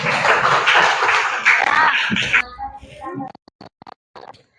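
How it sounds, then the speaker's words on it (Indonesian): A group claps together for a boy named Rizky, a brisk burst lasting about two seconds that cuts off abruptly, followed by quieter sparse sounds and a few faint taps. "Tepuk tangan dulu untuk Rizky"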